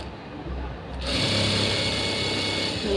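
A sewing machine stitches a quarter-inch seam on a tailoring project, starting after a quiet moment into a steady, close, rapid mechanical whirr that holds to the end.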